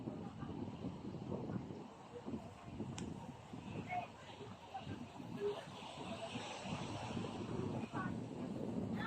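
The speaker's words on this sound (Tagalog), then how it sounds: "magandang hangin ngayon dito kasi nanggagaling sa dagat yung hangin" Sea wind blows across a beach where a kite is flown, a constant low rumble of gusts buffeting the microphone, rising and falling in strength, while a voice talks over it.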